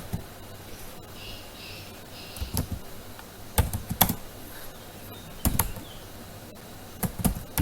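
Fingers type on a computer keyboard in close, clattering bursts of keystrokes separated by short pauses, with no talking.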